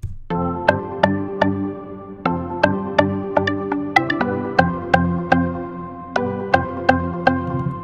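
A dry synth line with no effects, playing a bright, tonal melody of quick plucked notes in a steady rhythm, loud and alone with no voices.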